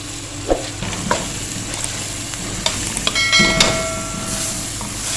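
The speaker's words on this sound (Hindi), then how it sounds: "मैं इसको भून लूँ ताकि दही का जो पानी है वो भी ड्राई हो जाए" Aloo methi with yogurt sizzles steadily in a pan while a spoon stirs it, with occasional scraping knocks and clatters standing out near and clear.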